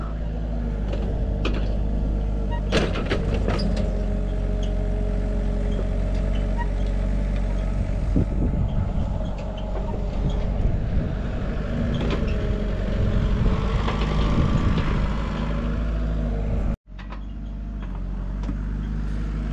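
A Kubota machine engine runs quietly at a swimming pool construction site in Nueva Ecija, a steady low rumbling hum with occasional clanks and knocks over it, briefly cutting out near the end.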